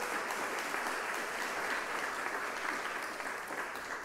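Congregation applauding a newly installed minister during a church service, a continuous even patter of many hands at moderate distance, sustained without pause.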